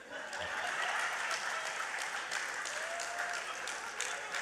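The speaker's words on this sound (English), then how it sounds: "That's when you usually give a round of applause." An audience at a PNM political meeting in Chaguanas, Trinidad breaks into steady, fairly close applause, dense clapping holding through the whole few seconds.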